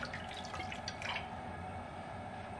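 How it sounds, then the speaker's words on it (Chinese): Cold water pours into a wok in a continuous, steady splashing rush lasting a couple of seconds, close and fairly quiet. "下来锅里倒入凉水，再加入切好的葱姜，加入料酒去腥味。"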